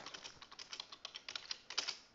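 Rapid clicky keystrokes on a computer keyboard while typing code, an uneven quick patter of close, fairly quiet taps lasting a couple of seconds.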